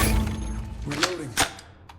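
A sniper rifle reloads in a video game with a short mechanical clatter of sliding and clicking metal parts, a few close, crisp clicks over about two seconds.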